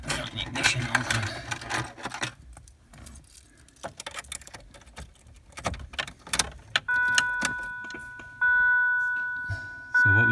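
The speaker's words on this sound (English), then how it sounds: "Get ready for the very friendly courtesy ding." Key-on courtesy chime in a 1989 Ford Probe GT, a clear electronic ding that sounds twice in the latter half as sustained, slowly decaying tones, preceded by key jangling and fumbling.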